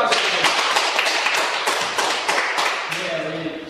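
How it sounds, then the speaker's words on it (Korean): An audience in a university lecture room breaks into loud, dense applause, many hands clapping at once close by, tapering slightly toward the end. "잘 설명하십니다. 힘찬 박수"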